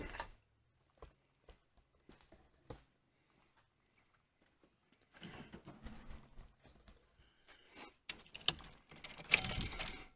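Keys jangle and click faintly in the ignition of a car with a completely dead battery, a few sparse taps followed by louder rattling and handling noise, with no engine cranking.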